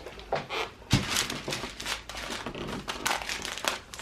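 Parchment paper crinkled and handled during a heat transfer vinyl job, a run of close, dry rustling bursts with a sharper crumple near the one-second mark.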